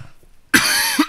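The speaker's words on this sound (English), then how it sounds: "What a small cough." A single short, sharp human cough bursts out after a brief quiet moment, close and loud, followed by a small second catch of breath.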